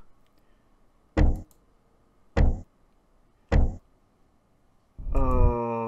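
Front door in the horror game The Man From The Window, three loud, evenly spaced heavy knocks or thuds on a quiet background, followed by a harsher sustained tonal rattle at the end.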